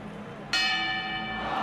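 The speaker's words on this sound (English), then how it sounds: "And there's the bell!" A boxing ring bell in an anime bout rings out once, sudden and loud, and its bright metallic tone hangs and rings on steadily to the end.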